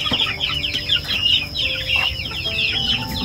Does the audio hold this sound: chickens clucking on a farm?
yes